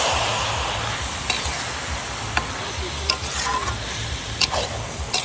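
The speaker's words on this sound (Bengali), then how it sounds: "এখন টমেটো আর ধনে পাতা দেবো" Tomato and coriander leaves fry in a new-model kadai at an outdoor family picnic, giving a steady loud sizzle broken by occasional clicks of stirring, with no talk.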